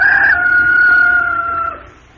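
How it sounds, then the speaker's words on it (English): A rooster crows once, close and loud, in a single long, bright, sustained call that fades out at the end, with no voices heard. "It was a rooster, of course."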